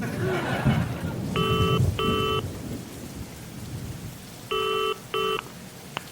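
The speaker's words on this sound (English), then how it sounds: "And it was at that point that it started raining." Steady rain hisses under a low rumble of thunder, broken twice by pairs of electronic telephone keypad tones in a comedy sketch setting.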